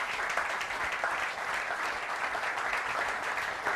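A church audience applauds to welcome Laetitia Mbombo during a sermon broadcast, continuous even clapping heard at moderate distance with no talk over it.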